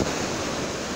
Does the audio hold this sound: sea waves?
yes